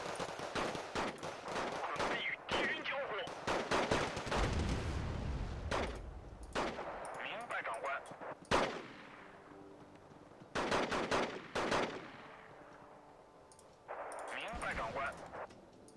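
Bursts of rifle fire from the war game Wargame Red Dragon come in rapid volleys, broken by short gaps, with louder single cracks among them, while players talk over the action.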